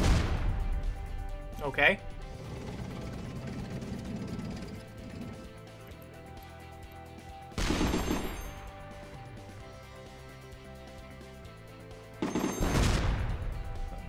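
Tank weapons fire in the artillery game ShellShock Live, three separate loud blasts spaced several seconds apart over a steady game music bed, with a brief spoken word in between.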